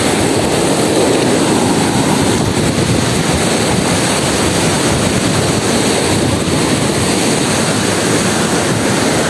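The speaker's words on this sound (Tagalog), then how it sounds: "So laki baga naman ng mga alon." Big ocean waves roar continuously along a shore where boats are pulled up, with loud, unbroken surf noise and heavy wind buffeting the microphone throughout.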